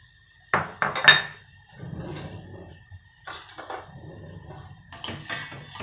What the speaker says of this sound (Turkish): Doğranmış soğanlarımı koyuyorum.